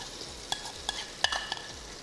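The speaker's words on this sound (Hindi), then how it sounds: "घी हमारा गर्म हो गया, और अब हमने जो मसाले दही में मिक्स किए थे उनको इसमें डाल देंगे और थोड़ा सा भून लेंगे" A yogurt and spice mixture for beef paya hitting hot ghee, heard as a low, quiet sizzle with several brief scraping strokes of stirring spaced through a short stretch, close by with no voices.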